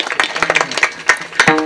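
An audience claps in a brief burst of bright, rapid, irregular hand claps, fairly close and loud, with a voice briefly heard.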